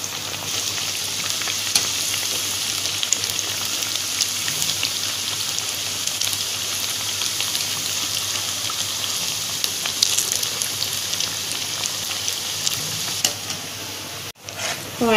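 Paruppu vada, lentil fritters, frying in hot oil: a loud, steady, dense sizzle that runs almost unbroken, with a brief dip near the end and no talking.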